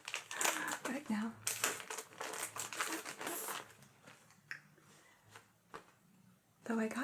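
A paper Christmas card bought in Japan is handled up close, giving crisp crinkling and rustling bursts at an irregular rhythm. A soft voice talks alongside.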